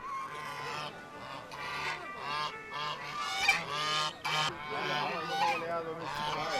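A flock of geese at a goose race honking continuously, many overlapping calls at close range forming a loud, busy chorus.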